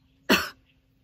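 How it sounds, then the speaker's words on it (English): A single sharp, close cough stands in for a missing word in a spoken sentence during a phonics lesson, a short forceful burst lasting about a quarter second between quiet pauses. "I'm going to cough where this word goes in,"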